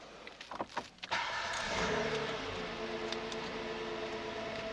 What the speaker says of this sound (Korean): 차량 시동 먼저 한번 걸어보도록 할게요.